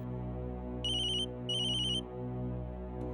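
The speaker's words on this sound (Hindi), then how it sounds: "किसका फोन है?" A mobile phone ringtone plays in two short bursts of bright repeating electronic tones, clear over a low steady indoor hum.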